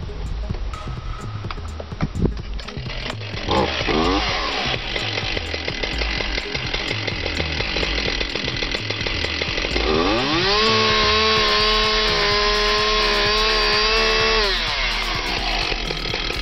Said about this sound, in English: I'm going to introduce to you the MortiSafe chainsaw attachment